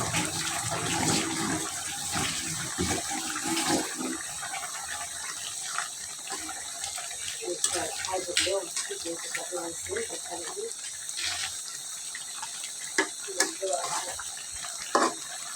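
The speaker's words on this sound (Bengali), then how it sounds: "একটু রসালো করবো তো একটু পানি দিয়ে দিচ্ছি" Water runs and splashes steadily into a pan of cooked spinach and rohu fish head, a continuous gushing pour with scattered clinks of utensils, no talking.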